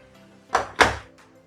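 Two quick wooden slides and thunks as the small drawers of a gift box are pulled open, close and distinct, followed by a faint softer knock.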